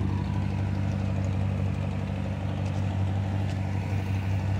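A Ford Flathead V8 Doodlebug tractor engine idles steadily at an old engine show, giving a low, even hum that stays constant and moderately distant throughout.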